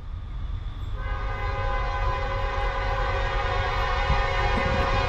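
A Norfolk Southern freight train on a Conrail shared-assets line in New Jersey rumbles close by as its horn sounds a loud, sustained chord over the rolling noise.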